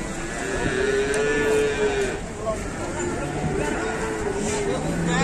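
Cattle lowing on a farm, long drawn-out moos in the foreground with other animal noise and voices talking underneath.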